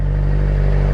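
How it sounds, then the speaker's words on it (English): A 600cc motorcycle rolls along with no throttle, its engine idling in a steady low hum and rumble, close and continuous without any voices. "look, no throttle, none at all. I'm just letting the bike just roll."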